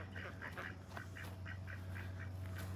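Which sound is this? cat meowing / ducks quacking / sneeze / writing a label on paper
ducks quacking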